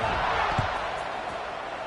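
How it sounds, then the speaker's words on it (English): A college football video game stadium crowd buzzes with a steady, dense roar after a score, filling the whole stretch evenly with no distinct voices standing out. "this crowd is buzzing after that last score"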